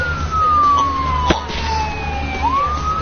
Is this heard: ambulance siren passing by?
yes